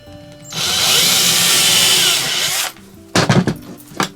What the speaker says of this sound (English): So just lining them up and then putting a few screws in.